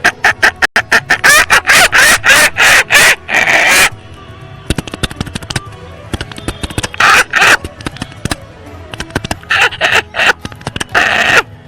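On stage at Kerala School Kalolsavam 2024, a mimicry artist's voice imitates a chicken being slaughtered and thrown into a drum. Loud, rapid bursts of frantic squawking and flapping give way to sparse sharp thumps, then a frenzied flurry returns.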